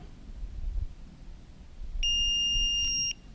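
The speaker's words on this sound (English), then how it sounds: "hold down the plus button until you hear the beep" A Pro-Find 35 pinpointer gives a single sustained high electronic beep lasting about a second as its Ferrous Tone ID is switched on, clear over quiet handling noise.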